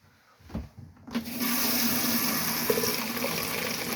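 A cassette toilet in a Sterling Eccles Quartz caravan flushes. A brief thump comes first, then a steady, close rush of water runs on alone to the end.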